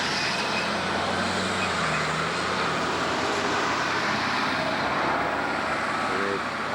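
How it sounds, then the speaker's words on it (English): A utility truck rolling up a road near an intersection, a broad steady rumble of engine and road noise heard from outside, constant and fairly loud with faint voices underneath. "they've sent a utility truck up the road"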